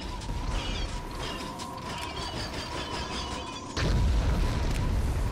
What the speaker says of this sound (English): Initiate bombing run.